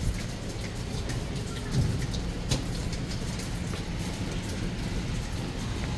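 Steady rain pours down outdoors on a spring day, a dense even hiss with soft low rumbling beneath and a couple of brief thumps, no voices.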